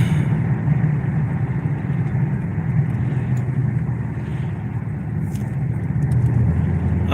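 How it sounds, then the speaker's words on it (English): A truck on a road near a riverbed brush fire, heard from a following vehicle as a steady mid-pitched engine hum and road rumble, continuous and moderately loud. "And I'm behind a truck."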